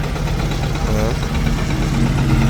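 A new-model Agriglobe 180 N1 small tractor engine idles close by, a loud, steady low rumble with a constant throb, and a voice sounds briefly over it.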